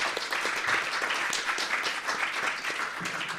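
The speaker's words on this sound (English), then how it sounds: "Please join me in another round of applause for our panelists." Audience applause for panelists at a campus art museum talk, a steady crowd of clapping hands throughout, moderately distant and even.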